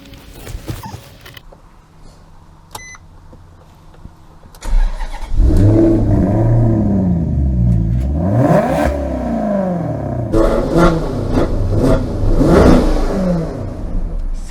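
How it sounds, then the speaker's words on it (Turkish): A Maserati GranTurismo S with its stock exhaust fires up with a loud bark, then settles into a deep, throaty idle broken by several sharp revs that rise and fall, heard close and loud after a few quiet seconds. "Maserati'nin çok ayrı bir sesi var zaten."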